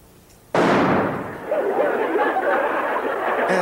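A single sharp, loud bang from a prop gun during a shot-scene rehearsal on the set of the 1973 Chaves comedy, immediately followed by a sustained wash of noisy crowd chatter.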